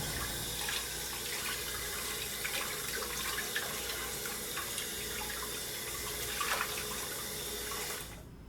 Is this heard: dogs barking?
no